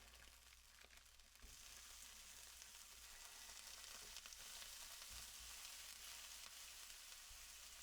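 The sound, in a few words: meat sizzling in a pan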